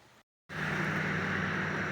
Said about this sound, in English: Crazy amounts of rain, crazy.